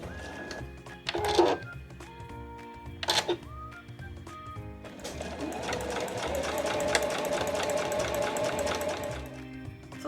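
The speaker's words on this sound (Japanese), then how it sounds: "続けて縫っていきます。" A sewing machine stitching a slim fabric pouch, with a couple of short handling clicks and knocks at first, then a steady run of rapid mechanical stitching up close.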